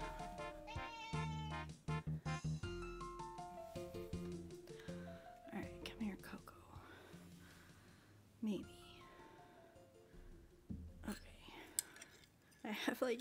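A cat meows several times, close and fairly clear, amid chewing-like noises and quiet whispery talk in a room with background music.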